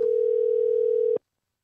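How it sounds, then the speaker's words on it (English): Steady telephone dial tone holds for about a second while a call is placed, then cuts off abruptly into silence. "So let me see if I can get Andy on the phone"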